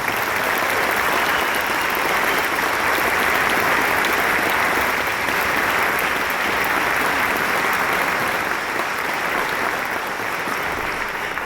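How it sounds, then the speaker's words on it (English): Concert audience at a veterans concert gives a sustained, steady round of applause for service members, a thick uninterrupted roar of many hands clapping at even loudness throughout. "what about a round of applause for all the people that served in our audience in particular?"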